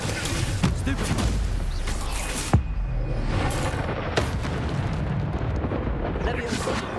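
Stupefy spells are cast during combat in Hogwarts Legacy on PS5, mixed with other spells. Crackling magical blasts and whooshes pile up continuously, with one sharp impact near the middle and a few softer hits later on.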